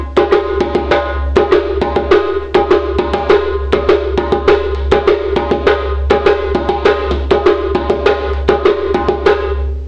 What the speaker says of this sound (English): Okay, so the first one is sometimes called passport. It's very common. It uses the slap and the open tones.